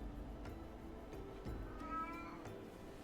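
A soft, brief cat meow near the end, faint and distant against steady background hum and a few light clicks.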